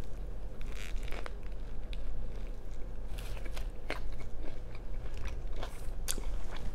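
Spicy Lay's jalapeño potato chips crunched close up, with repeated crisp bites and chewing crackles across the span over a steady low background hum, no talking.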